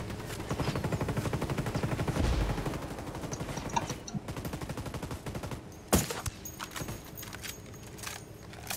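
Automatic gunfire in the tactical shooter Ghost Recon Wildlands, a loud rapid rattle of machine-gun bursts at first, then thinning to scattered shots and one sharp report, with no talking.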